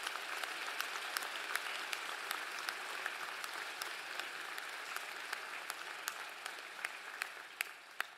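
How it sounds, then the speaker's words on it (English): Audience applauding at a university commencement ceremony, a steady wash of clapping heard from a distance with scattered sharper claps standing out, continuing throughout. "let's give them a round of applause for what they've done."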